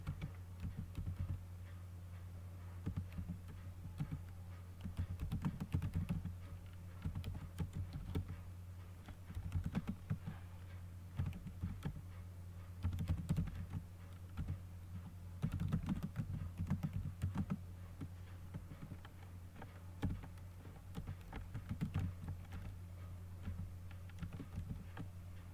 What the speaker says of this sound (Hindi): एक सिंपल प्रोग्राम जिसे हम टाइप कर रहे हैं